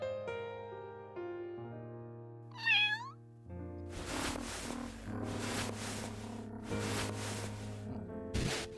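A single rising-and-falling meow from a black cat with white paws, sounding briefly over soft sustained background music, followed by noisy rustling bursts.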